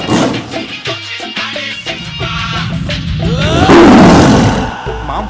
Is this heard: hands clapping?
no